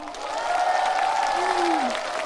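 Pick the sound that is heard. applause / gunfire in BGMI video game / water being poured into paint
applause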